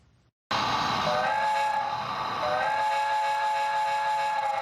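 A model train on a replica of the old railway route between Lewisburg and Glace Bay, Cape Breton, sounds a sustained multi-tone whistle after a brief quiet start, loud and close over a low running rumble.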